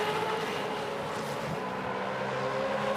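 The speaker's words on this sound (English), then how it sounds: "They advance the throttles and get rolling." Supercars race cars accelerating together at a green flag restart on the Gold Coast street circuit, a continuous dense engine roar from the pack, steady and fairly loud without letting up.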